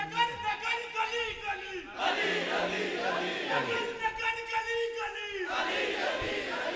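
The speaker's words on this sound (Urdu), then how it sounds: "نعرے مارو" A crowd at a Sunni religious gathering shouts slogans in unison, voices swelling in loud waves and cutting off, then rising again, with a lead voice calling between the chants.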